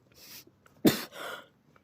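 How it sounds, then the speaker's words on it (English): A single short, sharp cough lingering after flu, near the microphone, with a breathy lead-in and a softer follow-up exhale, in an otherwise quiet room. "I still have this cough from when I had the flu."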